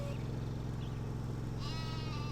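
Sheep bleat in the farming video game Farming Simulator 2013, faint and brief over a constant loud droning background, with a short bleating call near the end.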